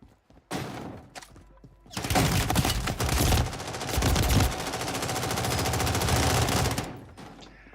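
Bursts of video game gunfire from a live-streamed shooter match: a few scattered shots early on, then a long dense stretch of rapid automatic fire, loud and close, fading out at the end.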